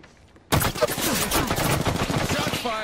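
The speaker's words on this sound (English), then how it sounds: "Shots fired, and they're hitting me." Rapid bursts of automatic gunfire from the video game Apex Legends, loud and close, starting abruptly after a short quiet moment and continuing as dense rattling shots.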